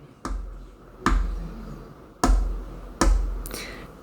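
Four sharp knocks or taps spaced about a second apart, each a crisp transient with a short hollow decay, imitating tapping noises heard inside a house wall; loud and isolated with no talk.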